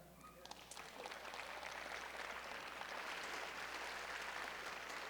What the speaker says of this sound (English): That's another good place to clap.